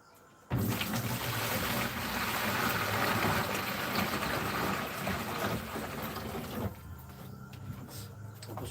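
Water gushes steadily from a tap at close range for several seconds after an abrupt start, then eases into a quieter, thinner flow near the end, with no voices over it.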